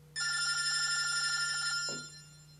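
A telephone rings with a single sustained electronic trill lasting close to two seconds before cutting off and fading into quiet room tone.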